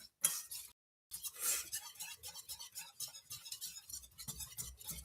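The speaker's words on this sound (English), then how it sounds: "That's why you got to keep stirring." A spoon scrapes and clinks steadily around a pot of flour and oil roux for seafood gumbo, faint close-up stirring with a brief pause near the start.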